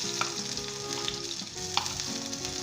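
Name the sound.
onions frying in olive oil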